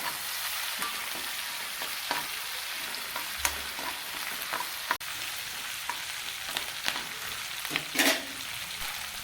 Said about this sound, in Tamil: கருவேப்பிலை சேர்த்துக்கோங்க மிளகாய் சேர்த்துக்கோங்க நல்லா கிண்டி விட்டுக்கோங்க